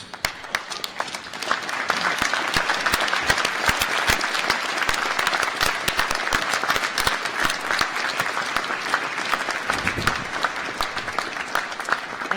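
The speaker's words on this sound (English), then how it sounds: "give your family and friends and supporters a massive round of applause" A graduation audience for the School of Science, Engineering and Environment applauds in a sustained, dense wave of clapping that stays steady throughout, with no voices over it.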